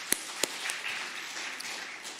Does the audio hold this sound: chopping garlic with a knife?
no